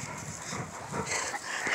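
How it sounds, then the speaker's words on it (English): Several puppies and dogs gathered around, giving short soft whimpers and yips, faint and close-by amid quiet background rustle. "Papa just gets so happy when the puppies come over to visit him."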